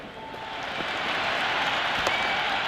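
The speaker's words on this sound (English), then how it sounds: "There's a buzz, a real buzz coming from the stands." A cricket stadium crowd applauds and cheers in a dense, steady roar that swells slightly, with scattered sharp claps and shouts.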